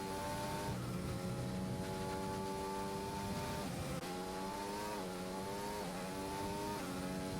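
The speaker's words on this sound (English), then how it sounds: "Boss Cookie has spun it on the final corner." Race car engine in a racing video game, whining and revving steadily with rising and falling pitch as the car spins out on the final corner, loud and continuous with tire noise and no talk.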